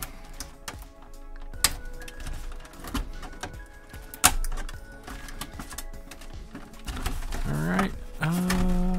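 A fairly new blade slices through plastic toy packaging with sharp clicks, snaps and scraping crackles scattered at close range over a low background.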